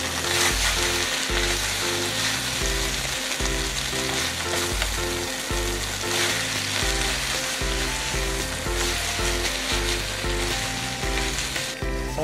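Noodles fry in a Teflon-coated aluminium mess tin over a camp stove, sizzling loudly and continuously up close, with occasional stirring scrapes and no speech.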